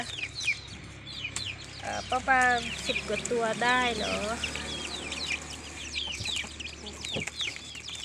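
Young laying-hen chicks, around a dozen or so, peep in steady high chirps throughout while someone talks over them for a stretch in the middle.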